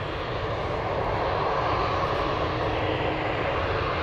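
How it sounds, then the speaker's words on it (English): An airplane at Manchester Airport roars as a loud, steady, broadband engine rumble heard from fairly close, with no voices over it. "I'm just waiting for this aircraft to go"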